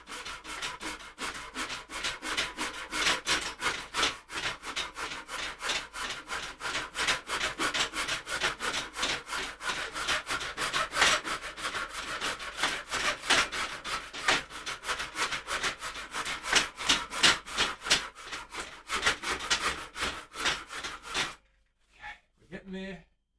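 A wooden guitar neck is shaped by hand with rapid rhythmic rasping strokes that scrape back and forth steadily for about twenty seconds, then stop abruptly with a few short scrapes after.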